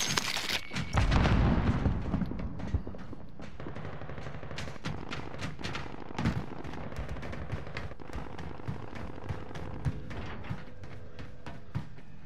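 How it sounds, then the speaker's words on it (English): Grenade blast followed by dense gunfire in Call of Duty: Modern Warfare, a loud boom early on giving way to rapid, repeated shots and impacts that continue steadily throughout. "Throwing grenade!"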